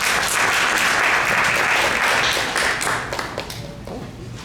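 A large audience applauds at a United Nations Day of Peace event, a dense wash of clapping that holds loudly for a few seconds, then thins and fades out.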